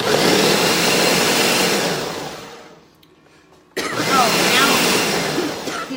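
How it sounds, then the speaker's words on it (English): A kitchen blender whirs loudly while blending salsa verde ingredients, a dense steady roar that winds down, stops briefly, then starts again at full power. "I'm going to turn the blender on."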